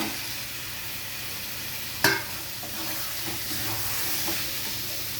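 Potatoes sizzling in hot oil and spice masala with tomato for a duck egg curry, a sharp clatter as they drop in, then steady frying hiss with soft stirring scrapes, close and moderately loud, no voices.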